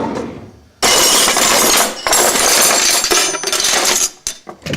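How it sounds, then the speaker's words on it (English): Two eggs whisked for an omelette, rapid metallic clattering of a whisk against a bowl in loud close bursts, pausing briefly between runs. "Whisk up the eggs."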